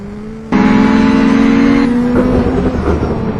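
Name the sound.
race cars on a racetrack during a heat race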